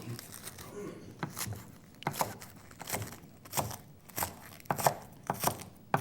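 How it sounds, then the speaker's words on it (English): Green onions are chopped with a knife on a board in a kitchen, making a series of sharp, uneven taps close by, with brief pauses between bursts. "we have some green onions that I'm gonna just chop"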